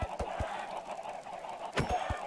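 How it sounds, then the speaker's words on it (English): Minecraft chickens cluck in soft, short blips, several scattered across a couple of seconds against a faint background, with no talking. "Come on, get off chickens."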